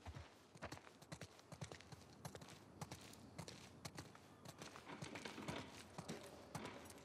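Horse hooves clip-clop in a quick, steady rhythm of sharp clicks in the video game The Last of Us Part II, continuous and fairly faint, with no talking.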